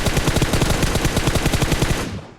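Rapid automatic gunfire from the Battlegrounds Mobile India video game, a loud, steady burst of closely spaced shots lasting about two seconds before cutting off.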